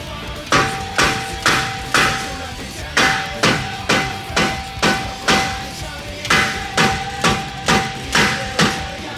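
Hammer striking a stuck brake rotor on an Infiniti G35 during a brake job: steady, loud metallic whacks repeating roughly twice a second, close up, with a faint ringing tone between blows and no talk.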